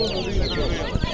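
Roosters and hens cluck at a busy spring fair amid dense crowd noise and overlapping chatter, with a few short, close clucks rising over the din.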